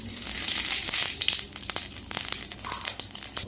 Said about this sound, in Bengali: তেলের উপর দিয়ে দেবো গোটা জিরে।